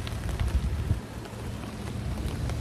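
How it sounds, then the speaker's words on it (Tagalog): Steady rain falls on an exposed coastal lookout at the Twelve Apostles and Loch Ard Gorge, a dense, even patter with a low rumbling wind or surf underneath throughout. "It's raining."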